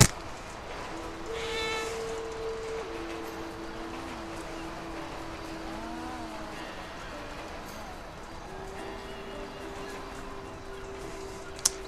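A cat meows in the video game GTA V, several drawn-out, wavering meows heard over a steady background of sustained game tones.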